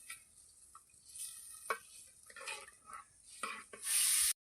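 Urad dal curry cooking in a pan with a faint bubbling sizzle, broken by scattered light utensil clicks and stirs, ending in a brief loud hiss; no one speaks.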